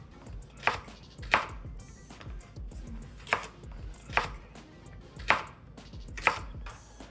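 Knife chopping ginger into small pieces on a board for Gujarati handvo, with six sharp, evenly spaced chops standing out over a low background clatter and no talk.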